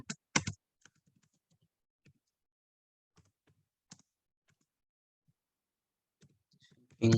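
Keys tapped one at a time on a computer keyboard while entering a spreadsheet formula, sparse close clicks spread out with long quiet gaps and a louder burst of taps at the very end.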